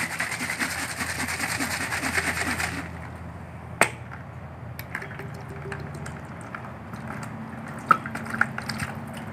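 A used vegetable oil bottle holding water is shaken to loosen grease, giving close rhythmic sloshing for a few seconds before it drops to quieter handling clicks and taps.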